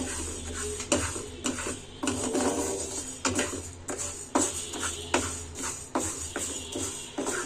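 Moong dal fried and stirred in a pan, heard as close, repeated scraping and rattling strokes in an uneven rhythm with no talk.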